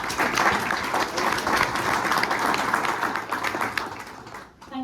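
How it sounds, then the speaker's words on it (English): Sustained applause from a conference audience at an AI in equine business event, a dense steady patter of many hands clapping for about five seconds before tapering off at the end. "So give them a big round of applause."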